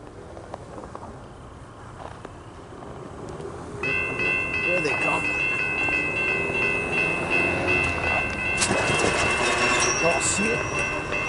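A train rolls past at moderate distance, a steady rumbling roar with faint ringing tones from a crossing signal, swelling as it nears.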